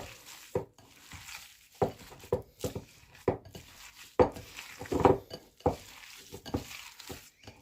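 Gala pie filling being mixed in a bowl, with repeated close knocks and scrapes of a utensil against the bowl in an irregular stirring rhythm over a quiet background.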